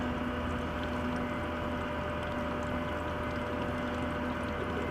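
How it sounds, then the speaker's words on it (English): A steady, continuous trickle of aviation fuel draining from a small training plane's sump valve into a sampling jar, quiet and close, with a faint constant hum underneath and no voices. "There's a little spot where you press that in and fuel comes in."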